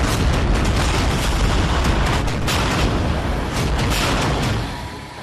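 Tank gunfire and explosions in the Russia-Ukraine war make a dense, loud barrage of overlapping booms and rumbling blasts that fades slightly at the end.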